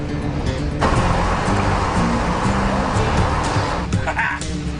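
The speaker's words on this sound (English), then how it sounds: "Start engine." A boat engine starts and revs, a loud steady motor roar with a sharp surge near the start and another swell toward the end, no voices over it.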